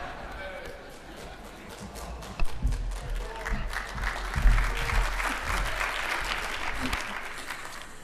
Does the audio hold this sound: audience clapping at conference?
yes